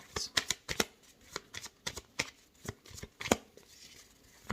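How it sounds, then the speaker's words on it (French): Tarot cards shuffled by hand, heard as a close series of quick, crisp riffles and slaps in an uneven rhythm, with soft voices at moments. "On va en sortir une autre d'un autre jeu."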